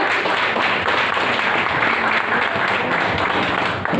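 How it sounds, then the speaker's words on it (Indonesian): Seminar attendees at a hair-colour demonstration break into steady, close applause to welcome a model, dense clapping filling the short span without talk. "皆さん拍手でお迎えください。"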